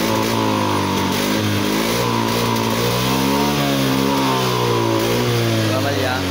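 A Honda Beat fuel-injected scooter engine runs loud and close, missing and stumbling with a rough, uneven note while someone talks over it.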